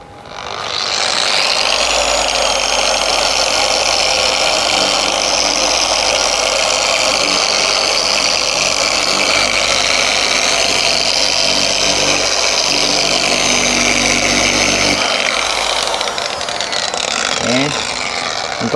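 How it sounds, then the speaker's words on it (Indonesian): A polishing machine fitted with wet 800-grit sandpaper sands a yellowed car headlamp, running as a steady, loud, high-pitched whine for about fifteen seconds before stopping, with a few faint sounds after. "Kita basahi dulu, habis itu baru kita amplas menggunakan mesin poles."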